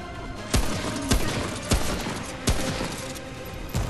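Gunfire in the video game Remnant, sharp single shots ringing out about every half second to a second over a busy game soundscape, loud and close.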